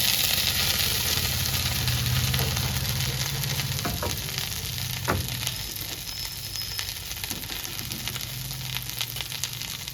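Chopped okra fries in oil in a pan for bendakaya pachadi, a steady dense sizzle close by with a few faint clicks of stirring.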